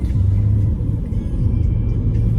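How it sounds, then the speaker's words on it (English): A car drives along Vojvode Stepe street in Voždovac, Belgrade, on a rainy evening, heard as a steady low engine rumble and road hum from inside, loud and continuous with no talking. "Currently driving the street of Vojvode Stepe."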